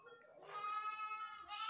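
Dairy goats on a farm in Surubim, in the agreste of Pernambuco, let out a long, wavering bleat followed by the start of another, fairly close and clear.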